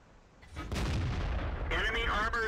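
Tank cannon shot in the World of Tanks game, a T20 Tier VII medium tank firing: a loud booming blast that rolls on for about two seconds, with a brief voice underneath.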